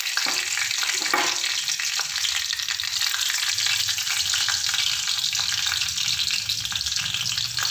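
Mustard seeds sizzling in hot refined oil in a pan: a close, steady, dense hiss with crackling pops throughout, and nobody speaking.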